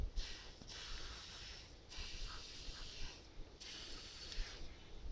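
WD-40 is sprayed onto car brakes on a 2006 Ford Mondeo Estate TDCi in short hissing bursts, three quiet spurts separated by brief pauses.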